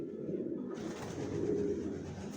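Long-breed racer pigeons of the Johnson line, young adults in a loft, coo together in a low, steady rumble at moderate distance, with no talking.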